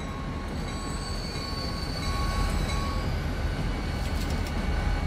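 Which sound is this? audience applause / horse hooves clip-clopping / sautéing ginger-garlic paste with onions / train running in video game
train running in video game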